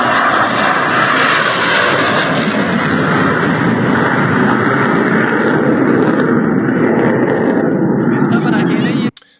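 Loud, steady roar of a military jet on an air base runway, a broad continuous rumble holding at full strength for about nine seconds before cutting off abruptly.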